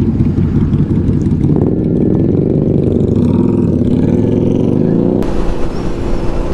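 Motorcycles on a group ride in New Zealand, a Harley-Davidson and a Yamaha R1 among them, with a loud continuous engine drone and wind rush, with the revs rising and falling slightly throughout.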